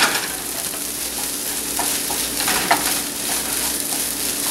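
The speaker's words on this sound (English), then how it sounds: "Get that stirred through." Pepper being stirred into a vegan quinoa stuffing mixture in a pan, a continuous hiss with soft scraping and a few light knocks of the spoon, steady and close.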